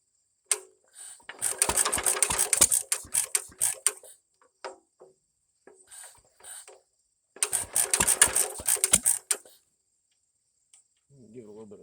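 Standard Monarch tractor engine firing in two short runs of rapid, sharp popping beats, loud and close, separated by a pause with a few isolated pops, then a brief stretch of talk.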